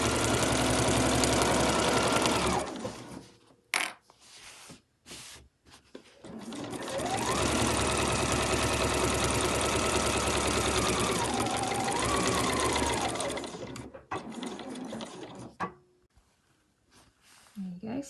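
A sewing machine runs a seam in a few bursts, a loud close mechanical whir with short pauses and starts, then a longer steady run, with someone talking at points.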